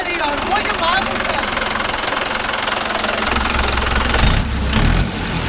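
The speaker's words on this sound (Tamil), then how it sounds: "இன்ஜின் சவுண்டு எப்படி இதுன்னு பார்த்துப்பா." A Mahindra Arjun Novo 605 tractor engine idles with a steady, close, knocking diesel throb, while people talk over it throughout.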